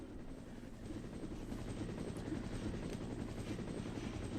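A helicopter in a Resident Evil game cutscene gives off a steady, muffled rotor thrum and engine drone at low volume, unbroken for the few seconds heard.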